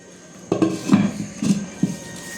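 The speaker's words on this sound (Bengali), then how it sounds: "প্রথমে আমি এখানে একটা হাঁড়ি নিয়েছি, মাটির হাঁড়ি।" An earthen clay cooking pot set out for handi chicken is handled, giving a few close, hollow knocks and clinks spaced over about two seconds, with no talking.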